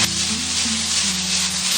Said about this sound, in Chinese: 然后开大火给它翻炒均匀。